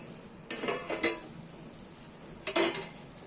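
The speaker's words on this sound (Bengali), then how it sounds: "আমরা এখানে ঢাকাটা খুলে একবার দেখে নেব" The lid comes off a pot of doi potol with a cluster of metallic clinks and scrapes, a pause, then another short clatter, fairly close and otherwise quiet.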